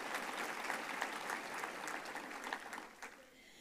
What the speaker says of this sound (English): I'd like us all to give them a round of applause for that